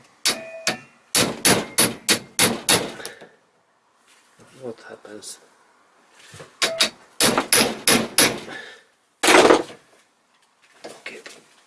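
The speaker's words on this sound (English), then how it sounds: "and then also hammering" Sharp metallic clangs ring out in quick bursts of several strikes as a hammer hits stuck car engine parts during an idle speed repair, with pauses between bursts and someone speaking briefly.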